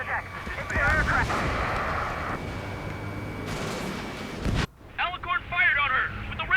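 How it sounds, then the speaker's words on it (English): Heavy naval guns on a landing ship in Ace Combat 7 boom repeatedly over wind and engine rumble, loud and close, while radio voices talk over the firing. "Main guns commence fire."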